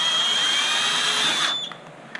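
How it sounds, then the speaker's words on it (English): Power drill with a magnetised bit driving screws into a Zip Navigator golf trolley gearbox, a loud steady whine that cuts off near the end, followed by faint handling clicks. "having a magnetised tip on the drill bit helps"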